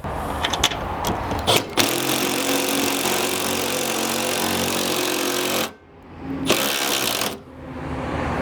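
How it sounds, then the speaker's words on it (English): An impact wrench on a low setting runs bolts into a John Deere riding mower deck, a loud continuous buzzing rattle lasting several seconds, a brief pause, then another short burst. "I'm going to start off the bolts with my impact at a low setting"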